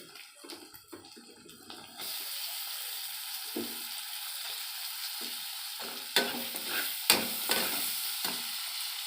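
Chopped tomato and chilli powder hit hot oil for a Bengali tadka, a steady broadband sizzle starting after a quieter opening, with a few sharper spatters and stirring scrapes near the end.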